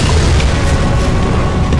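A grenade blast in Counter-Strike: Global Offensive on a zombie escape map, heard as a loud, continuous booming rumble that fills the short stretch without a break.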